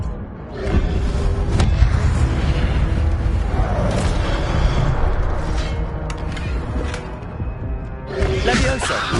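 An Incendio fire spell in Hogwarts Legacy erupts in loud, rumbling booms and blasts during a spell-filled fight, with a voice shouting over the bursts.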